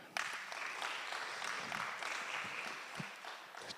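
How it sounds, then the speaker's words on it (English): Audience applause at an international music and performing arts conference session, a continuous wash of clapping from a seated crowd, fairly faint and distant, with a few sharper individual claps. "Please clap for him again."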